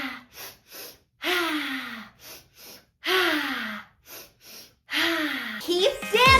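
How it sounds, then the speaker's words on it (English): Breathing exercise for kids: a voice makes pairs of quick, sharp sniffing in-breaths followed by a longer audible out-breath, repeated three times in a steady rhythm, close and clear. "Let's do the bunny breath. 2 breaths breath out."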